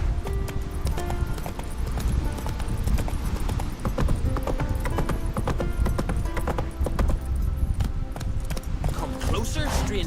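Roach, the horse in The Witcher, runs with dense rhythmic hoofbeats under loud game music and ambience, the clip-clop pattern steady throughout.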